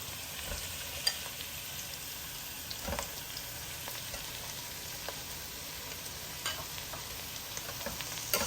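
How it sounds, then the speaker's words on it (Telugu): Soft, continuous sizzling of cauliflower and other vegetables frying in a pan, with faint stirring scrapes now and then. "ఇప్పుడైతే నేను ఇవి వేసేస్తున్నా క్యాలీఫ్లవర్ వేస్తున్నాను"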